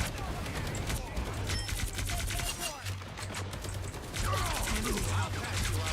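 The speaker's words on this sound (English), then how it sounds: "Heavy weapons" Heavy weapons fire in a video game battle: dense, continuous rattling bursts of gunfire with clanking mechanisms, running the whole time under overlapping voices and game chatter.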